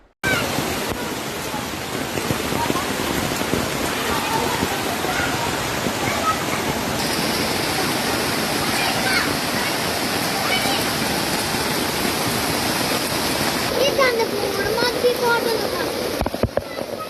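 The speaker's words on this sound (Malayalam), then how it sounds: "തമിഴ്നാട് മേഖലയിലും നാടുകാണി ചുരത്തിലും കനത്ത മഴ." Heavy rain falls steadily at the Nadukani mountain pass, a dense, even roar of water that holds throughout without pause.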